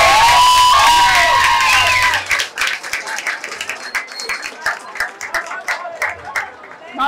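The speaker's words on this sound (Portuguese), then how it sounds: "A salva de palmas pra Ana." Crowd at a Brazilian Communist Party centenary festival breaks into cheering and applause for Ana, loud at first, then scattered claps, shouts and chatter continue at a lower level.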